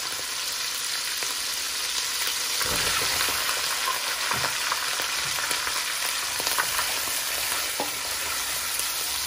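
Potatoes stirred and frying in a pan of oil with cumin for aloo bhujia, a steady close sizzle broken by occasional scraping stirs, with no talk.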